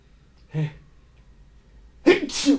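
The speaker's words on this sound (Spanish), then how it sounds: "Perdónenme que estoy estornudando." A person sneezes twice, a short sneeze followed about a second and a half later by a louder, fuller one, in a quiet indoor room with no talking.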